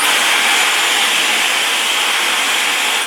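A Dyson Supersonic hair dryer blows at maximum power, a loud, continuous, close rushing hiss with a bright whine on top, holding level the whole time and easing off slightly at the very end.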